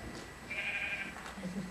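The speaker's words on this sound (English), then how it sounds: "Oh, there's a sheep nearby." Sheep bleating in the Minecraft video game, a single drawn-out synthetic bleat at moderate level over a faint background hum, followed by a low murmur.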